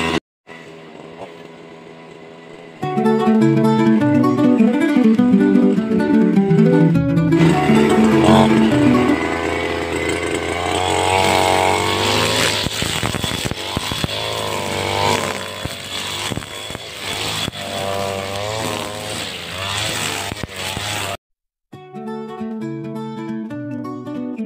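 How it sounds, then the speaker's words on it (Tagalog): A grass cutter runs continuously while cutting grass in a calamansi orchard on a hot late morning, its high buzzing engine loud and close, revving and bogging as it meets growth, then cutting out briefly near the end before restarting. "Mag-umpisa na tayo guys ng ating pag-grass cutter."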